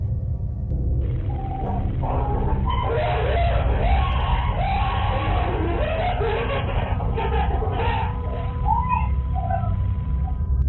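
Several cleaners scream and yell inside a cluttered inherited hoarder's house, overlapping shrill cries over a constant low rumble, loud and close for most of the stretch.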